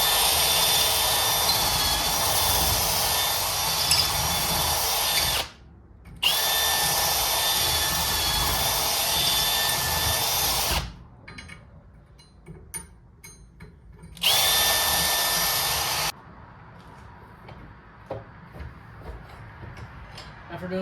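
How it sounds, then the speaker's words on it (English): A power drill bores holes through a metal bracket during a Murray bike engine swap onto a Schwinn chopper, sounding in three loud sustained whirring bursts with short pauses and quieter handling clatter between them. "I just drilled a bunch of holes in this so that this bracket will fit"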